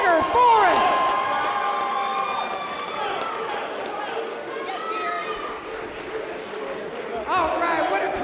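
A boxing arena crowd in Richmond, Virginia cheers and roars after a heavyweight fight decision, a loud sustained wash of voices and whistles that slowly fades, with an announcer speaking over it.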